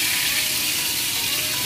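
Kerala-style quail frying in hot oil in a pan, giving a steady, dense sizzle that stays loud and even throughout.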